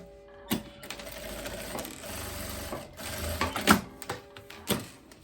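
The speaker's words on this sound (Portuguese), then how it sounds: "Agora, eu posso fazer a costura aqui, unindo a lateral." A sewing machine stitches the side seam of a faux leather midi skirt, its steady mechanical whirring running in bursts with brief pauses and light clicks, close and moderately loud.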